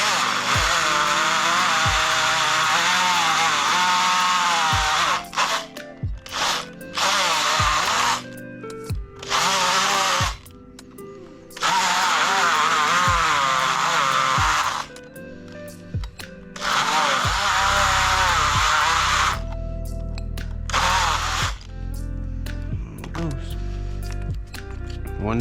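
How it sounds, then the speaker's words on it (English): A power tool buzzes in repeated bursts, cutting a bracket off the side of a stock radio from a 2005-2010 Chrysler 300C, with loud, close whines broken by short pauses and someone talking between cuts. "just cutting this bracket off the side of this face of this stock radio"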